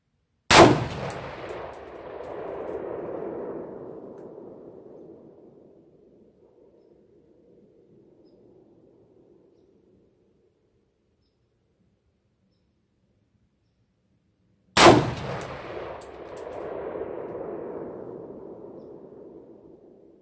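Two sharp, loud rifle shots fired during a barrel break-in, each followed by a long rolling echo that fades over several seconds, with a silent gap between them.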